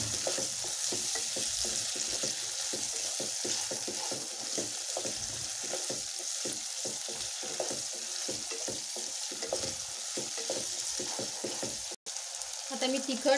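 Tomatoes sautéing in a pan for a spicy Maharashtrian sprouted matki rassa, a steady close sizzle broken by repeated stirring scrapes and clacks, with no talk and a brief dropout near the end.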